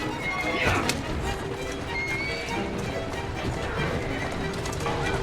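A horse in Assassin's Creed Syndicate gallops with rapid clip-clopping hooves and lets out a neigh early on, set against a busy game soundscape.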